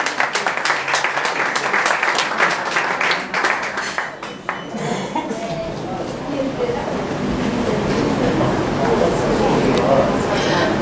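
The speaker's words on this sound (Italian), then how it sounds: "applauso!" An audience applauds for a singer at a televised song contest semifinal, dense clapping for a few seconds that gives way to music and voices as the performance begins.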